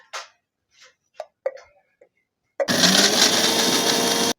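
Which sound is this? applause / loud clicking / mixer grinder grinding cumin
mixer grinder grinding cumin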